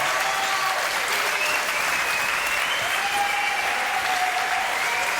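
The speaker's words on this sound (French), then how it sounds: "Mesdames et messieurs, sous vos applaudissements" A French television studio audience applauds arriving guests, the loud, dense clapping running without a break for the whole stretch while faint music plays underneath.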